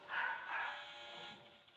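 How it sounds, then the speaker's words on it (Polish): Dogs bark nearby in a short burst, with two quick yaps followed by a fading whine. "psy słychać od mojego kolegi"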